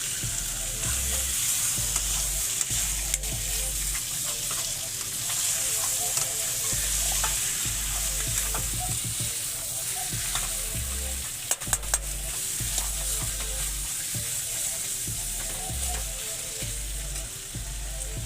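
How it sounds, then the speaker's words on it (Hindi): Chicken fries in hot oil in a pan, a dense continuous sizzle with clinks and scrapes of stirring and occasional low thumps, heard close and without talk. "चिकेन को आपको भल से तेल में भाजवा"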